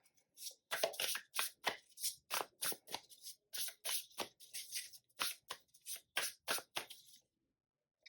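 Tarot cards shuffled briskly by hand, a long run of crisp, rhythmic riffling snaps about three per second, close and clear, then stopping.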